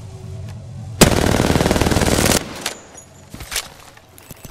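Automatic gunfire in the video game Apex Legends: one loud, rapid burst lasting over a second, followed by a few scattered, quieter shots and impacts.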